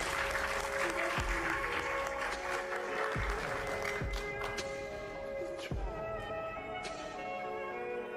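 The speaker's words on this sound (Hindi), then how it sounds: "ज़ुबैर अली ताबिश के लिए जोरदार तालियां।" Sustained audience applause for a poet at a mushaira, a dense wash of clapping from a crowd, with a few sharp low thumps breaking through, gradually thinning toward the end.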